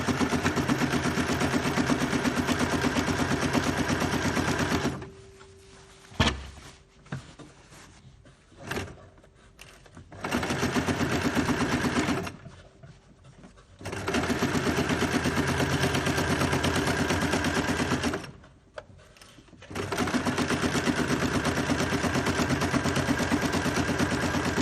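A sewing machine stitches fabric for a gift bag, running in steady loud bursts separated by short pauses while the cloth is turned and repositioned.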